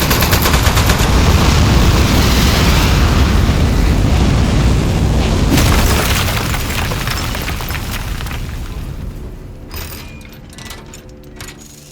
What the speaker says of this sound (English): Modesty panel set to flight configuration. 3, 2, 1. We have liftoff.